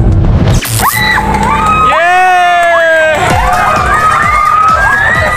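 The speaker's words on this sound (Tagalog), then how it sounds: "Hiyawan at palakpakan ng mga residente nang sa wakas, nagkaroon na ulit sila ng kuryente" Residents in Leyte cheer and shout as electricity returns weeks after a typhoon, a loud, close burst of excited voices and yelling with bangs, sustained throughout.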